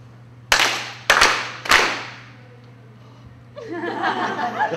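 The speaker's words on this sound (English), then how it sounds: "I'm going to clap and pause, and I'm going to ask you to clap and pause with me" A group's loud clapping comes in three sharp bursts, each fading quickly, with pauses between them in rhythm with a leader at a panel session. A murmur of laughter and chatter rises after the bursts end.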